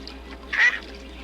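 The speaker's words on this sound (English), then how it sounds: "This big mallard duck looks to be in perfect health, but it's not." A single short quack from a large mallard duck in the wild, moderately loud and brief, rising out of a low steady outdoor background.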